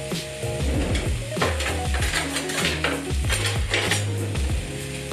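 Halloumi slices sizzle steadily in a hot frying pan while a spoon scrapes, taps and clinks against the metal as the pieces are flicked over, close and continuous with no talking.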